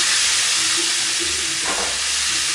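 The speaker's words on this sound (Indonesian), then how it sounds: "goreng ikannya ini" Salted fish frying in hot oil in a home kitchen, a steady broadband sizzle and hiss that holds close and even throughout, with a brief clatter-like burst midway and no talking.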